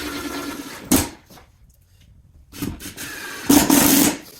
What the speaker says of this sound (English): We'll just put these screws in.